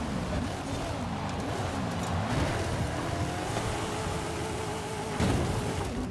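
A car drives in the Forza Horizon 5 racing game during a night race, its engine a steady dense roar that blends with road noise throughout, with a short louder burst near the end.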